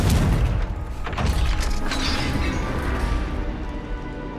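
A Confringo fire spell explodes in the Hogwarts Legacy video game, a loud booming blast with crackling debris that rumbles and fades over a few seconds.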